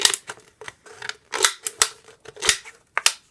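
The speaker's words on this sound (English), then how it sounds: "I'm just going to go ahead and pierce this can beyond where I want to cut it" Sharp scissors snip through a thin aluminum drink can, a series of crisp, close metallic crunching cuts in an irregular rhythm, loud and clear with no talking.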